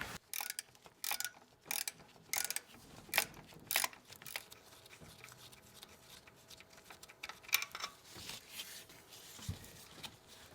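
A bolt is worked loose from the top mount of a Ford alternator on a 1980-1996 Bronco or F150, with irregular ratcheting clicks and metallic taps, close and fairly faint.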